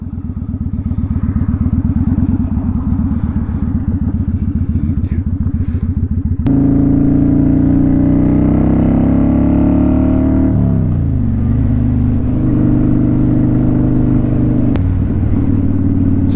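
A motorcycle on the road, the owner's first bike with its windshield removed, its engine droning loudly and steadily up close, then rising in pitch as it accelerates and shifting down before settling again.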